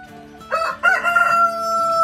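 A rooster crows loudly and close by, one drawn-out call, with chickens faintly around it on a farm where a white rooster and hens are kept.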